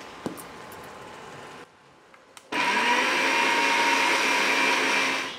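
A kitchen blender whirs loudly and steadily as it grinds a spice paste with sour yogurt and sugar, starting after a brief quieter pause and holding a continuous high motor drone to the end.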